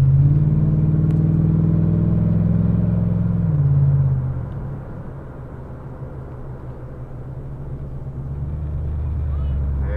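A car rolls slowly past on a forest road, its low engine rumble steady and close before easing off and fading as it moves away, with a faint hum building again near the end.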